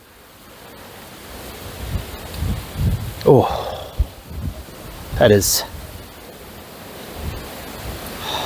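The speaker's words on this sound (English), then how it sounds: "it's windy as shit out here today" Strong wind gusts buffet the microphone outdoors in stormy New Zealand weather, a steady rushing roar with louder gusts, while someone speaks briefly.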